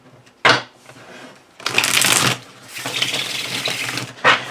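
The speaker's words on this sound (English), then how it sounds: "The shuffling of this deck is so bizarre." A tarot deck being shuffled up close: a quick riffle, then longer stretches of dense, papery flutter, ending with a short final burst.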